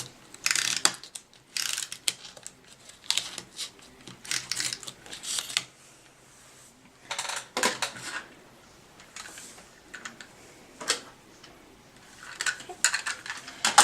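Snail adhesive tape runner rolled across the back of a cardstock piece while making a holiday card, giving repeated short ratcheting clicks in bursts, close and fairly loud, with no talking.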